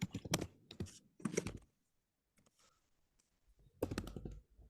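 Bursts of computer keyboard typing during a programming lesson, clustered clicks in three short runs separated by a near-silent pause, fairly close and alone.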